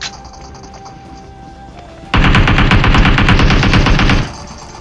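Loud automatic gunfire in the mobile game PUBG Mobile erupts as a rapid burst of shots lasting about two seconds, preceded by quieter game ambience.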